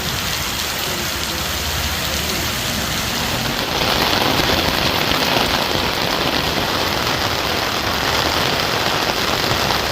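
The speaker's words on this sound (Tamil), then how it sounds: "இடி மின்னலுடன் கூடிய 1 மணி நேரத்திற்கு மேலாக மிதமான மழை பெய்தது." Moderate rain falling steadily in the Periyakulam area of Theni district during a thunderstorm, a dense continuous hiss of drops on surfaces that swells slightly louder partway through, with no distinct thunder crack standing out.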